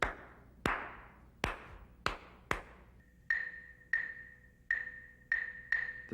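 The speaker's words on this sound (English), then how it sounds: "In rumba guaguancó, the clave sounds like this." Clave playing the rumba guaguancó pattern, heard as sharp dry wooden clicks, alone: five strikes and then five more higher, ringing ones, each short with a quick decay, in an asymmetric three-two rhythm.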